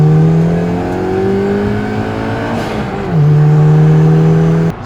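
RSB Provocation Fiat Uno Turbo engine revving hard and accelerating, a loud steady droning pitch climbing through the gears with a shift partway, up close and alone.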